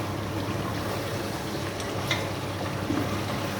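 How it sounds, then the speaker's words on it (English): Spices being stirred into a pot of mutton and potato curry: a steady, soft sizzle and bubbling with faint scraping from the spoon, close and continuous, with no voices. "After you've added your spices, give it a good stir."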